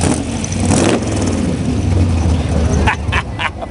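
Chevelle SS V8 rated at 325 horsepower at a muscle car show, a close, loud low rumble that swells into revs before ending in choppy bursts.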